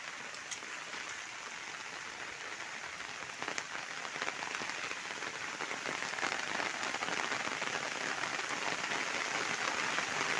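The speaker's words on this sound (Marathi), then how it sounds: "पाऊस काय थांबतच नाही हा" Steady, dense rain falls in a jungle during the rainy season, pattering on leaves and on an open umbrella nearby. The hiss stays constant and grows slightly stronger toward the end, with no speech.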